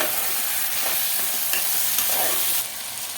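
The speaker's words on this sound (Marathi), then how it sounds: "तेल तापलेलं होतं म्हणून गॅस आपण थोडा कमी केलाय आणि आपण ही फोडणी सगळ्या भाजीला" Hot garlic and cumin tempering being mixed into cluster bean (gavar) curry on lowered heat, giving a loud, continuous close sizzle with faint stirring scrapes, easing slightly near the end.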